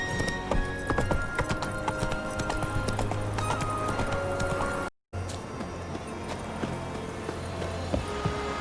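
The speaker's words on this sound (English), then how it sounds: "Come on, Roach." Horse hooves clip-clop steadily in The Witcher 3, a close, rhythmic trot of the horse Roach carrying on for several seconds amid game ambience, cut by a brief gap.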